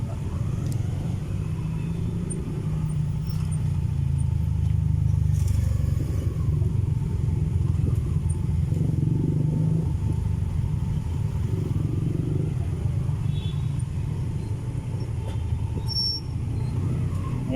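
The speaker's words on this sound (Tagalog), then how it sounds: "Ayan po, grabe, sobrang traffic." Dense, steady low rumble of heavy traffic on the EDSA flyover, with cars and motorcycles droning continuously at close range and no talk.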